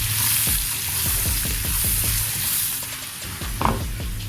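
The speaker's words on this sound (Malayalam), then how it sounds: "ചെറിയ പീസാക്കി മുറിച്ച് വെച്ച വെളുത്തുള്ളി ചേർത്ത് കൊടുക്കാം." Chopped garlic sizzles and fries steadily in a hot pan while being stirred, with clear stirring scrapes repeating throughout, loud and close, no voices, while cooking Kerala-style tomato achar for a sadhya.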